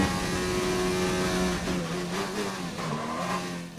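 Formula 1 car engine at full throttle in the F1 2019 racing game, a loud continuous high-pitched whine that holds steady, dips briefly and climbs again as it accelerates, with no talk over it.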